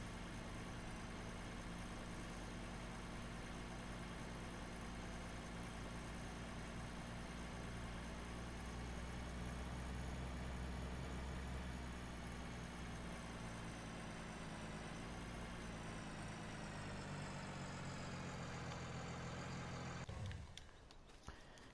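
A truck engine idles in Farming Simulator 19, a steady low rumble that holds evenly and close for about twenty seconds before cutting off abruptly near the end.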